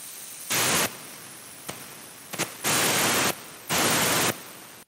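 Air hissing through a Mercedes 722.6 automatic transmission pressure solenoid during a bench test, three steady bursts of loud, close leakage noise with brief clicks between them.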